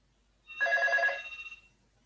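A telephone rings once in a quiet lecture room, a short, moderately loud electronic trill lasting about a second before it tails off.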